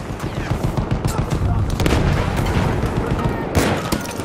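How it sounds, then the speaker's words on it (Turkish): Bombs dropped from a plane in Battlefield 1 land in a dense, loud barrage of booms and rattling gunfire. A voice shouts over the chaos. "Bomba atıyorum! Çabuk olun!"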